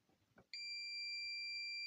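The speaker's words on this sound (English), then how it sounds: "so we are supposed to hear a beep" A multimeter on continuity testing an inductor in a TV repair gives a loud, steady, unbroken high beep that starts abruptly after a few soft clicks and holds to the end.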